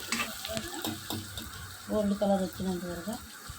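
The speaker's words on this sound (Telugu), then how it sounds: "అవి బ్రౌన్ కలర్లోనే అలాగా ఏగనివ్వాలి. అలాగా గోల్డ్ కలర్ వచ్చినంత వరకు" Chopped onions fry in a pan until golden brown for egg fried rice, a steady, close sizzle with faint stirring running beneath someone talking throughout.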